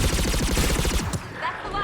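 Fast automatic gunfire in Mass Effect 3, a tight rattling burst of shots close up that cuts off abruptly, leaving faint ringing tones.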